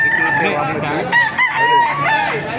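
Several roosters crow in overlapping calls at a chicken market in Baliuag, close and loud, with clucking and busy background noise around them.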